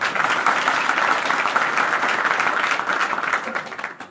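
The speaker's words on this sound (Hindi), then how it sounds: "चलो एक बार थोड़ी सी ताली बजा दो" Audience at a public gathering applauds in a steady, dense round of clapping that holds for several seconds and tapers at the end.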